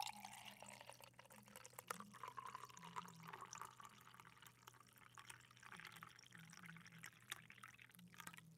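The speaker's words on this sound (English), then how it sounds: "Excuse me while I pour myself some hojicha." Warm hojicha tea is poured into a cup, giving a soft, trickling stream of liquid with small drips and splashes, faint and close, over a low steady hum.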